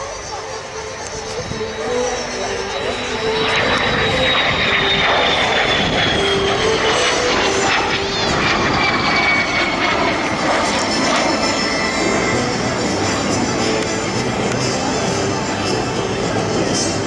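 A de Havilland Vampire jet flies past at an air display at East Fortune, its engine roaring steadily and loudly with a whining tone that swells and sweeps across the sky.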